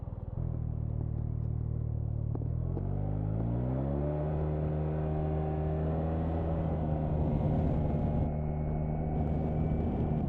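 2024 Yamaha TMAX 560 Tech Max scooter accelerating, the engine droning low at first and then rising smoothly in pitch as it picks up speed, steady and close, with wind noise building.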